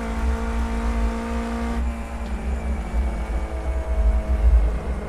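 A 100-horsepower training car's engine drones steadily through a track lap, loud and close from inside the cabin, with a pitch shift as gears and revs change midway.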